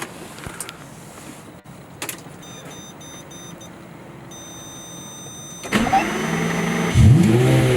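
A 2009 Lamborghini LP640 with a naturally aspirated 6.5-liter V12 is started up: after quiet electrical clicks and chimes, the engine fires with a loud bark near the end and settles into a deep, close idle with a rev blip.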